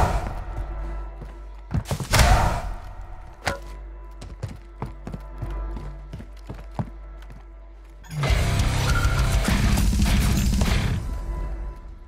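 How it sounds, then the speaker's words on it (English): A stun grenade thrown in a Call of Duty match: several sharp thuds and clatters as it lands, then a sustained loud roaring burst of noise lasting a few seconds near the end. "Throwing a stun grenade!"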